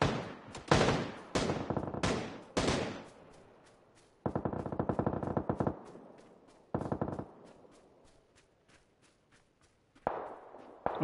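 Gunfire in the video game PUBG crackles in several loud, rapid bursts of automatic fire separated by short pauses, with scattered single shots near the end.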